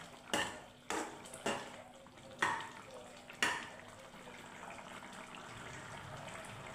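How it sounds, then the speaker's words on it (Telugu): A spoon stirs jaggery powder into okra stew in a pot, with several sharp clinks against the metal at uneven intervals over a faint background hiss. "బెల్లం పొడి వేసుకోవాలి వేసుకొని ఒకసారి ఇలాగా కలుపుకోవాలి"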